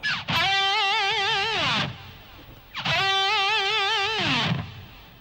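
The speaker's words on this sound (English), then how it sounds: "You can also add like a fairly quick vibrato in there as well" Two sustained electric guitar notes with a fast, wavering vibrato, each ringing out bright and distorted before cutting off, played alone.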